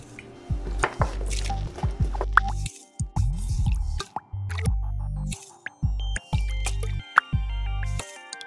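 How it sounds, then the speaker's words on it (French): Vegetable peelings are washed in water, with splashing, dripping and squishy sloshing punctuated by repeated low thumps and clatter, close and busy throughout with no talking. "On lave bien les épluchures de légumes avant de les mettre dans notre sac à futur bouillon."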